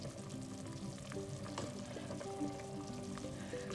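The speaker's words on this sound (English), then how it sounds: "you just have to let the mushroom cook" Mushrooms for chicken sweetcorn soup frying in a pan, a steady close sizzle with light stirring clatter throughout, no talking.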